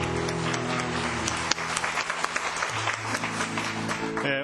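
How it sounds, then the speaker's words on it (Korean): Worshippers at 수원온누리교회 clap for one another during a Sunday service, a steady wash of applause over a sustained organ-like musical tone, with a few sharper claps standing out. "서로에게 따뜻한 사랑의 박수를 보내도록 하겠습니다"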